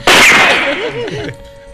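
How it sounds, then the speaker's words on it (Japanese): A single loud, close burst like a gunshot in a radio studio, a sharp crack that trails off into a ringing, wavering tail over about a second. "スタジオからなんか銃声が聞こえてきた"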